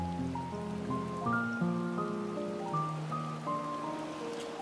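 Steady rain patters as a soft, even hiss in the video game Final Fantasy XIV, beneath a gentle melodic tune playing throughout.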